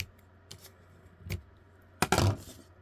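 Scissors trimming the yarn ends of a small weaving, a few sharp close snips spaced apart, ending in a louder cluster of cuts.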